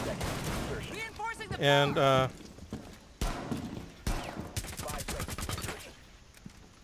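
Gunfire in the video game Rainbow Six Siege, in a team deathmatch on the Consulate map, comes as sharp bursts of rapid shots. Several loud volleys are interspersed with single cracks, and a player speaks briefly between them.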